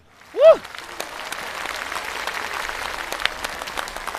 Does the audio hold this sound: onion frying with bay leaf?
no